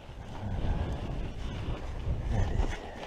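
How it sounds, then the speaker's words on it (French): Wind buffets a microphone on a mountain climb up the Pic du Taillon, a steady low roar with gusty swells, loud and close, no voices. "Il y a du vent, il fait frais"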